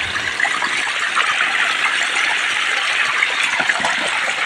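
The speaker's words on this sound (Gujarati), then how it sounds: "પાટલામાં જ પાણી વહ્યું જાય જુઓ તમે" Water runs steadily along a channel between crop rows in a village field, a continuous broadband rush that stays close and even throughout, with no voices over it.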